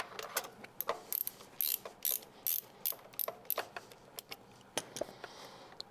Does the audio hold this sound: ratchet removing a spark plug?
yes